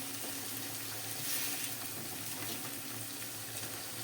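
Cauliflower is added to a pan of cooked-down tomato pieces, a steady close sizzle and watery bubbling that rises briefly, with no talk.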